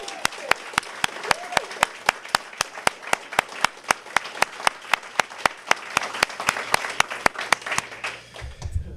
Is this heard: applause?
yes